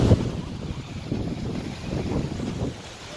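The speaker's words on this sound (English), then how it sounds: "North wind holding strong." Steady north wind blowing over an ocean shore, a continuous rushing roar with gusty buffeting against the microphone and surf beneath.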